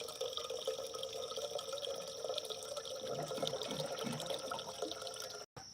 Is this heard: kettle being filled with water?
yes